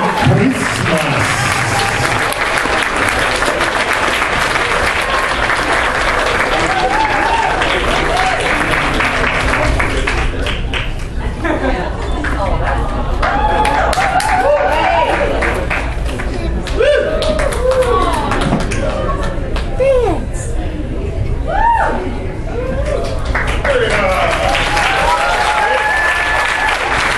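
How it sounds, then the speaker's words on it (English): Sustained audience applause at a convention costume contest, loud and continuous with crowd noise, whoops, and scattered shouting voices rising and falling throughout the long stretch. "Let's give another big round of applause"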